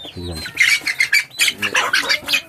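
Medak breed chickens on a Telangana farm squawk and cluck repeatedly in loud, overlapping bursts, close by, with a person talking briefly at the start.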